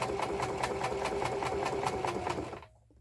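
A plain home sewing machine stitching scrap napkin fabric for a lavender sachet, running at a steady fast rhythmic whir with regular needle clicks, close and continuous, then stopping abruptly near the end.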